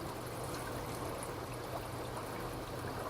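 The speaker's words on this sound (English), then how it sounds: "You always want to make sure that you dump your water samples back into the treatment system." Water samples being dumped back into a septic treatment system, heard as a steady, continuous trickling pour of liquid that is close and fairly quiet throughout.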